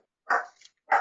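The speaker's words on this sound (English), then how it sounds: "And there's a dog." A dog gives two sharp, close barks about half a second apart, loud and isolated against silence.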